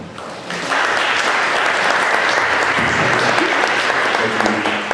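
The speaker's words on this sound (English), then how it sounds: "I like the delayed applause" Audience at a fundraising dinner breaking into applause after a short pause, steady loud clapping from a room full of guests, with a voice faintly underneath.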